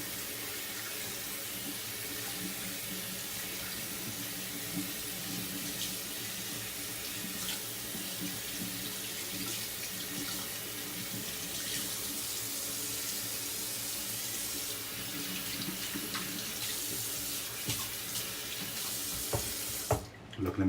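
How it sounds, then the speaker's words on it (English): Tap water runs steadily into a sink while a shaving soap puck is rinsed, a continuous close splashing hiss that stops abruptly at the end. "I'm gonna rinse this off."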